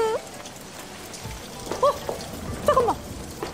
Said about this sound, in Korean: 아 갑자기 비가 오잖아